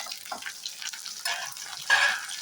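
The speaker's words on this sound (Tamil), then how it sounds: "இதையும் நல்லா எண்ணெயில் வதக்குங்க" Onions frying in oil with curry leaves for a garlic kuzhambu crackle and sizzle in uneven bursts, close and moderately soft, with a louder spurt near the end as they are stirred.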